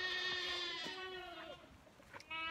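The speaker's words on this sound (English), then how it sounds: "I hear all my goats crying." Several goats bleat in quick succession, nearby and fairly quiet, with wavering cries overlapping over a few seconds.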